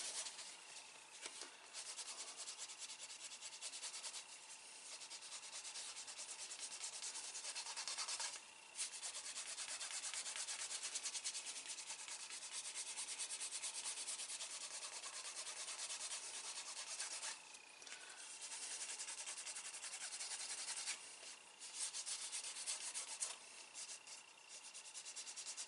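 A finger rubs gum tragacanth along a leather card-wallet edge to burnish it, making a steady, faint, dry rubbing and squeaking friction sound that continues with small breaks and no talking.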